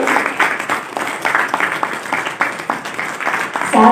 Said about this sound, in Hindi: हम सभी तालियों से इस सम्मान को बढ़ाते जाएंगे।